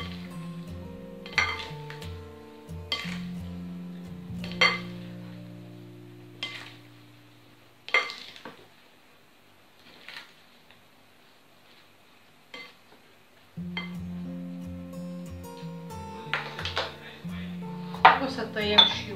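A tuna, mozzarella, egg and boiled wheat salad dressed with lemon juice is tossed in a bowl, with repeated clinks and scrapes of cutlery against the dish in irregular bursts and short quiet gaps between them.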